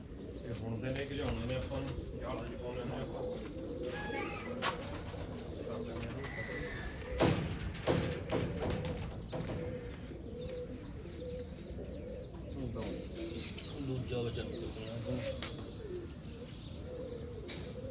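Pigeons coo softly in a loft kept by a fancier, low repeated murmurs running steadily through the background under ongoing conversation, with occasional wing flutters.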